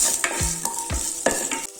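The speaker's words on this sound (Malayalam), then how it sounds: "ഒന്ന് നെയ്യിൽ കിടന്ന് ഒന്ന് മൂത്ത് വരട്ടെ കേട്ടോ" Cumin seeds toasting in hot ghee give off a steady close sizzle, and a spoon scrapes and stirs the pan several times.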